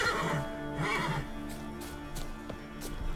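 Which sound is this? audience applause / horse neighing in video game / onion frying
horse neighing in video game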